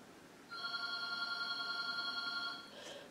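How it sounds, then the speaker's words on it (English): A telephone rings with a steady electronic tone for about two seconds and then stops, fairly faint against a low background hiss, with no one speaking. "There goes the phone again."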